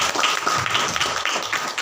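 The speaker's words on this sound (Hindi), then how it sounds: "एक बार जोरदार तालियां बजाइए।" A congregation at a Christian preaching service claps loudly and briskly, with a busy, steady patter of many hands and almost no voices.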